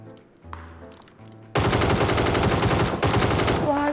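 Automatic gunfire in a shooting video game bursts in after a quieter stretch of game sounds, a loud, continuous rattling stream that briefly pauses and resumes before cutting off.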